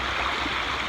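A river flowing past a camp gives a steady, close rushing hiss of water with no breaks.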